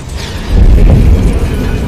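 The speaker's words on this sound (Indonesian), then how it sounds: "tiba-tiba ledakan bom terjadi di toko pakaian." A bomb blast tears through a clothing shop in an action film scene, a loud low rumbling burst that swells after a brief quiet start and keeps roaring with debris-like noise to the end.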